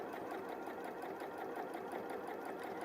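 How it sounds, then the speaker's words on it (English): A sewing machine stitches a drawstring channel on a Lotus bag, with a steady, even, rapid whirring rhythm that runs without pause and without talk. "this line that we're sewing now, is creating our channel for our drawstring"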